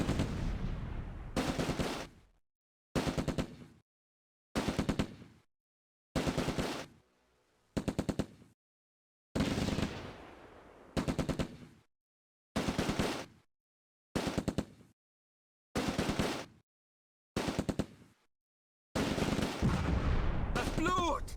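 Sustained bursts of machine-gun and rifle fire in the Close Combat: A Bridge Too Far war game, set in Operation Market Garden, repeating in rapid rattling volleys separated by brief silences.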